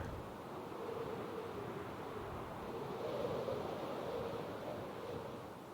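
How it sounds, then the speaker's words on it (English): Ocean waves in the video game Minecraft wash as a soft, continuous low surf with a gentle swell in the middle, faint and steady with no speech over it. "Ocean."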